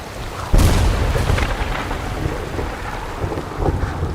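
A thunderstorm effect in a radio drama opens with a sudden loud thunder crack, then a long rolling rumble over steady rain and wind that fades gradually, with no voices.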